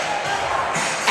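Basketball crowd cheering and moshing in a gym, a dense steady roar of many voices, loud and close, lasting about a second.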